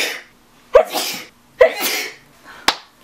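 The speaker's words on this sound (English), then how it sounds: "For some reason, I always sneeze 3 times." A person sneezes three times in a row, each a sharp loud burst with a short intake before it, spaced about a second apart.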